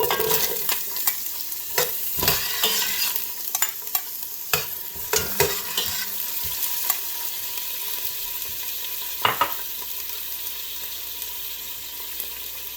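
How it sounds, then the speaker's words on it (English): Onions being dropped into hot oil in a pan for pork sinigang, frying with a steady close sizzle and repeated sharp stirring and clattering knocks, with no talking. "as soon as our oil is hot, first we're going to start putting our onions."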